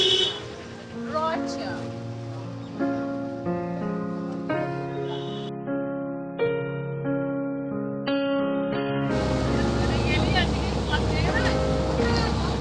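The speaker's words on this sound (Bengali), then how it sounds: "ফাইনালি অনেক ঝামেলার পরে আমাদের বোট স্টার্ট দিয়েছে।" Background music with sustained tones plays at first, then a boat's engine in the Sundarbans takes over as a loud, steady broadband roar with wind through the last few seconds.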